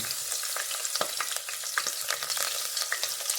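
Garlic fries in a pan for chicken tinola, a soft steady sizzle broken by repeated scraping clicks of a stirring utensil, close and fairly quiet.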